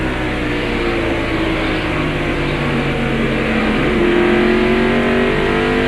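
Mark Martin's Valvoline Ford race car at the 1992 First Union 400 at North Wilkesboro roars loudly from inside the cockpit, a sustained high-revving engine drone that climbs in pitch as the car accelerates, with no voices.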